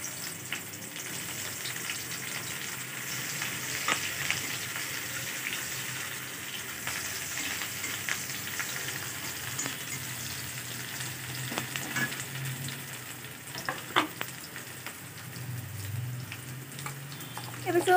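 Onions and cumin seeds fry in a pan as mixed vegetable curry is started, giving a steady moderate sizzle with scattered crackles and a few louder pops near the end.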